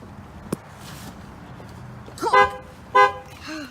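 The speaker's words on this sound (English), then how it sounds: "Here's the horn." Horn of a 2016 Dodge Grand Caravan gives two short honks close by, the second following quickly after the first, over a faint background hum.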